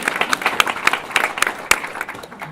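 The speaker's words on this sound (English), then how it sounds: "Please clap for them." Sparse, uneven clapping from a small audience at a Southern Oregon candidate forum, individual claps distinct and moderately loud, with a few sharper pops, lasting a couple of seconds.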